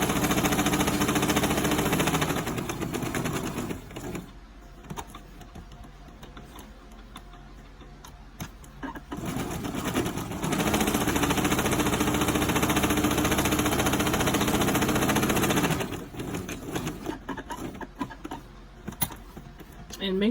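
A Brother 2600i sewing machine stitches shirring fabric in a steady, rapid mechanical whir, running in long stretches broken by short pauses where it slows or stops.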